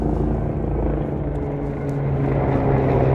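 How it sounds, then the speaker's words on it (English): A loud, low rumbling drone of a helicopter, steady and heavy with a throbbing rotor beat, continuing without pause. "that helicopter was loud as hell"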